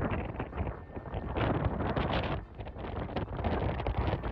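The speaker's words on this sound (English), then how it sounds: "Nanmadol brought gusts of wind up to 250 kilometers per hour." Strong gusts from Super Typhoon Nanmadol making landfall on Kyushu, Japan, roar steadily and loudly across the microphone, with surging broadband buffeting that swells and dips without pause.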